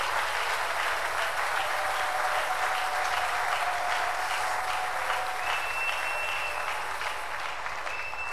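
A church congregation claps steadily and loudly at a prayer service, a dense continuous wash of applause with no talk.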